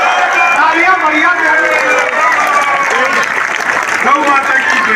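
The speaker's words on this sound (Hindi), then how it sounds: "तालियां बढ़िया" A crowd at a kavi sammelan poetry gathering at the Mela Maidan in Lakhimpur claps for several seconds, loud and dense. Voices carry through the clapping.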